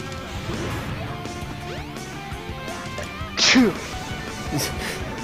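A single sharp sneeze bursts out mid-clip over a Sonic Adventure Air Speed stage, landing loud and close against steady game music and effects.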